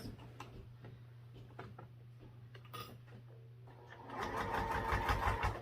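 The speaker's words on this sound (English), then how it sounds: "so now we'll just sew this on at our 1/4 inch seam allowance" A home sewing machine stitches fabric at a quarter-inch seam allowance. Soft handling clicks and a low hum come first, then the machine runs in a fast, steady, close burst near the end.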